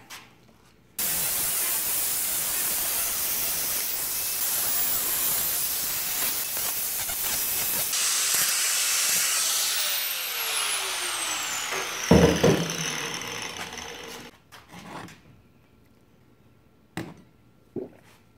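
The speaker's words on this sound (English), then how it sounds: "Let me get the grinder to cut it." An angle grinder cuts through metal stock for a heavy-duty handle, a loud continuous broadband whine lasting about eleven seconds with a falling pitch as it spins down, followed by a few short clanks.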